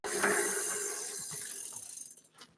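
A Box Components Prime 9 bicycle cassette is cranked onto the hub, giving a close metallic ratcheting and clicking that fades into sparse, irregular ticks.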